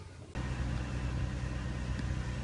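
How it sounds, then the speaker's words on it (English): A VW or Audi car engine starts and keeps running after a fuel pump replacement, a steady low idle rumble close by that picks up sharply after a short quiet start and then holds even throughout. "As you see, the car is running now."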